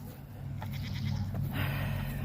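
Goats waiting to be milked on a farm on a freezing Thanksgiving morning, bleating a few times in the distance over a steady low rumble of wind or machinery.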